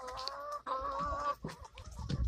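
Laying hens in a flock of about fourteen clucking close by, a few drawn-out tonal calls followed by softer scattered clucks and scratching.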